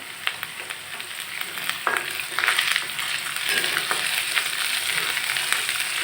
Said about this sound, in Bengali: এটাকে ভালো করে কষিয়ে আমি মিষ্টি কুমড়োটাকে দিয়ে দিব।